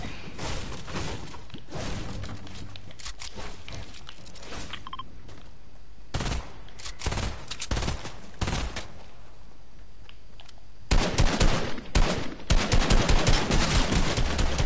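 Gunfire crackles through a video game match, with scattered sharp single shots and short bursts that thicken into dense, loud rapid fire near the end; no talk is heard.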